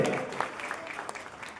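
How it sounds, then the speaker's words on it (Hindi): A crowd at a women's honour ceremony in Muzaffarpur claps briefly, a soft, distant patter that quickly thins out. "पूरे विश्व में एक बार तालियां होनी चाहिए इन सबको के लिए"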